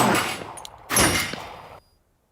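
Two sharp pistol gunshots fired close together, loud and close, each with a brief echoing tail before silence.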